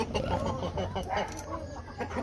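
Japanese Shamo chickens, a hen and a rooster, cluck and murmur continuously at close range, with soft overlapping calls and low chatter throughout.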